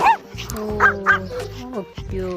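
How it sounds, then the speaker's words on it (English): Puppy barking and yipping in short repeated bursts, close and fairly loud, with a few whimpering tones between barks. "Cute puppy."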